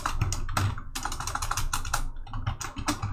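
Rapid keystrokes on a computer keyboard while typing a short greeting message, a dense run of close, crisp clicks filling the clip with no talk.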